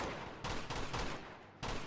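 Rapid automatic gunfire in the video game Uncharted 2, two loud sustained bursts of shooting separated by a short gap, with no talking.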